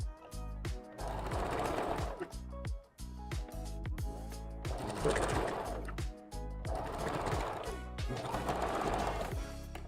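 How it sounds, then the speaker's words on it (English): A sewing machine runs a quick back stitch on a red ombre closure wig, its needle chattering in steady bursts with brief pauses between runs, close and fairly loud. "And that was a quick little back stitch."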